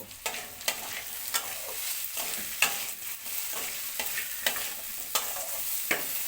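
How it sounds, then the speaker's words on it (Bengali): Chira polao with turmeric and salt is stirred in a pan, a soft continuous sizzle broken by regular spatula scrapes roughly every half second, close and without voices. "হলুদ দিয়ে দেব আর প্রয়োজন মতন আমি নুন দেবো দিয়ে আমি এটা নাড়ব"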